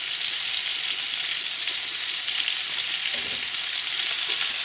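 Scallops fry in very hot oil, giving a loud, continuous hiss and crackle that stays steady throughout with no voices.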